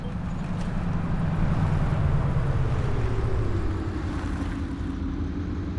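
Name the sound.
bus braking in a driving simulator video game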